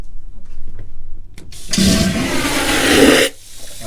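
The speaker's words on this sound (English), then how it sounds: "It works. That's the toilet." A cabin toilet on the Carnival Panorama cruise ship flushes with a sudden loud vacuum whoosh lasting about a second and a half, then cuts off abruptly, preceded by faint clicks and handling noises.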